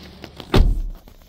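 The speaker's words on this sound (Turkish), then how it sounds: "Kapatalım kapıyı." The door of a Renault Talisman shuts with a single solid, close thunk, preceded by a few faint clicks and followed by a brief low rumble.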